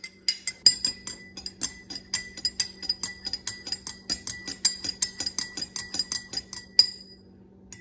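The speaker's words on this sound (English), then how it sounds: "Let me go ahead and stir." A utensil clinks rhythmically against a glass while stirring an iodine clock reaction solution: rapid, evenly spaced bright taps, close and fairly soft, continuing for several seconds before stopping.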